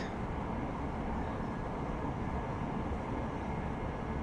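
A train rolls along in Deus Ex: Mankind Divided, a steady, even rumble with a faint hiss that holds without change, and no voices over it.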